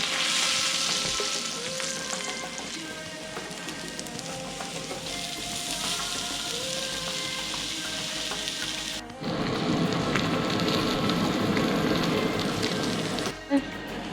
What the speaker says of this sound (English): you put the mushrooms on with the steak, it will absorb the steak flavor